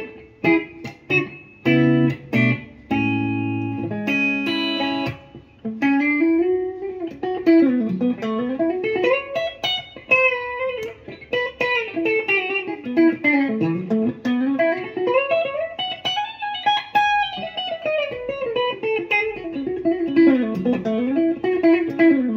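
A Gibson Les Paul Tribute 2017 electric guitar played through a Boss ME-80 multi-effects unit with distortion, starting with choppy chords and then moving into a flowing, bending lead line of sustained notes, clear and alone.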